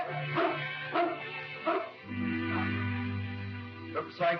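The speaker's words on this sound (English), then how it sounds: "Oh, vicious dogs." Several dogs bark in short bursts, then a sustained low growl or howl holds steady before a couple more sharp barks close by.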